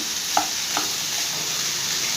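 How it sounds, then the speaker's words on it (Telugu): Tomato and ivy gourd pieces are stirred in a pan, with a steady sizzling hiss and two soft spoon scrapes early on, no talking. "ఇదిగోండి ఇప్పుడు ఇదంతా కలిపేసుకొని బాగా మగ్గనివ్వాలండి"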